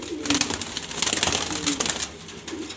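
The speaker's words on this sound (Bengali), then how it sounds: "এখানে সব বাছাই করা গ্রিজেল কবুতর নর মাদি" Several grizzle pigeons, a hand-picked group of males and females, coo loudly and close by in repeated throaty phrases, with faint rustling and wing sounds mixed in.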